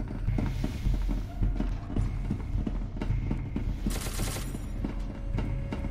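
Rapid bursts of gunfire from a firing line in an SCP video game, dense and continuous with clattering mechanical shots stacking over a steady low rumble.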